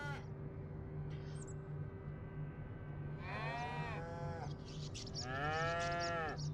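Calves moo in the Farming Simulator 25 video game, a couple of rising and falling bleating moos in the second half over a steady low farm hum, fairly close, with no talk.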